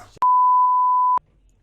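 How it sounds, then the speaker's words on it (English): A single censor bleep tone, a pure steady beep lasting about one second that cuts in and out abruptly over a quiet podcast background. "We could bleep it up."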